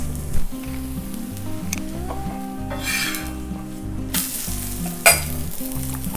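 Neer dosa, a thin rice-and-coconut crepe, sizzles steadily in oil on a hot pan. Brighter hissing flares come in a few bursts over a low, steady tonal background, with no one talking.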